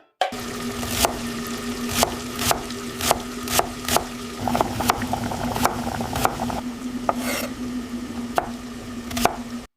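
Sharp wooden chopping knocks repeat at a steady rhythm over a continuous low bubbling of liquid, with a faint sizzle-like wash running beneath, all in synthetic ASMR-style food preparation with no voices.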